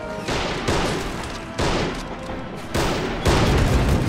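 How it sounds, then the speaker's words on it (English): Heavy anti-aircraft-style machine gun, around 50 caliber, firing in the Army Men toy-soldier war game: loud repeated bursts of rapid booming fire, each burst starting abruptly and rolling on for about a second. "Still very pinned down from this this heavy, like 50 caliber machine gun."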